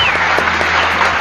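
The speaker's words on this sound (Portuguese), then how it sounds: "Uma salva de palmas aqui." Audience claps through a brief stretch of steady applause at a talk-show style event, heard at moderate level with no clear speech over it.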